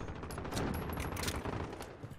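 Chopper gunner fire in a team deathmatch shooter game: a dense, loud, continuous fusillade of rapid machine-gun bursts with no pauses.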